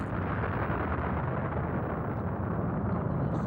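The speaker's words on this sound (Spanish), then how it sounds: "Tiene lugar una misteriosa fluctuación y se genera la gran explosión." A deep, sustained rumbling blast stands in for the Big Bang explosion, a dense roar filling the low end that stays loud and steady throughout without any break.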